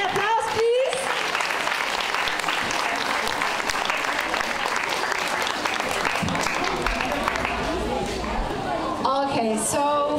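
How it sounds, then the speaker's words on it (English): A school audience claps after a performance of Macbeth, dense sustained applause from a crowd in a hall filling the whole stretch, with scattered voices and cheers mixed in. "A big applause, please."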